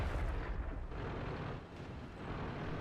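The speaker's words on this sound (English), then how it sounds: "I think our KV-2 just shot our own TOG by accident" A KV-2 heavy tank's cannon firing in World of Tanks, a deep, booming blast with a long rumbling roar that fills the whole short stretch loudly, with no talk.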